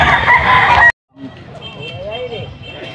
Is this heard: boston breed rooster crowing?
yes